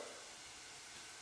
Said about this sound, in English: If you can hear the sizzle.